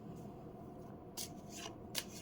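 Oracle cards riffle and slide softly, with a couple of brisker shuffling bursts near the end, close and quiet.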